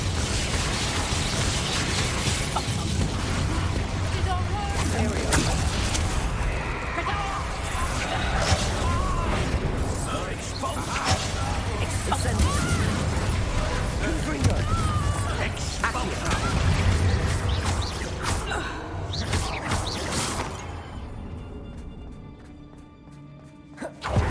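Spell explosions in the Hogwarts Legacy video game, a loud dense run of blasts, bursts and crashes layered over combat noise, then fading near the end, with a voice speaking over it.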